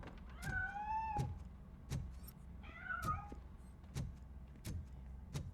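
A cat meows repeatedly in the video game RoboCop: Rogue City, two drawn-out rising and falling cries at moderate distance over a low ambient hum, punctuated by regular dull thumps.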